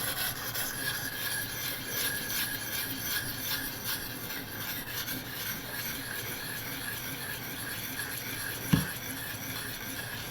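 Hard steel knife blade drawn repeatedly across the stone of a ViperSharp precision sharpener, a steady close rasping scrape with one sharp knock near the end.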